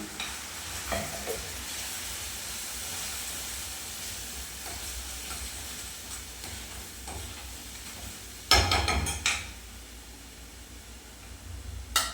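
A tadka for chutney sizzles quietly in a pan, a low steady hiss with occasional faint clinks and a brief burst of clattering partway through.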